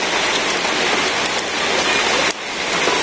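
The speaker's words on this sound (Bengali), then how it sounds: "বৃষ্টি আবার শুরু হয়ে গেছে" Loud, steady rain falls in a village, a close, dense patter of drops on surfaces with a brief dip near the end, no voices.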